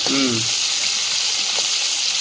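Fish fry in a pan with a bright, constant hissing sizzle, opening with a short voiced sound before the frying continues alone.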